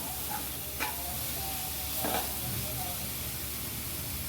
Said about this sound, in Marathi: हा आपला सुका कोळंबा याला चांगलं परतून घेऊया आपण।